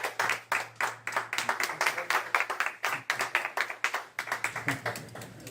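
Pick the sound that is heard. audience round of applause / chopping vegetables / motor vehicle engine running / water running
audience round of applause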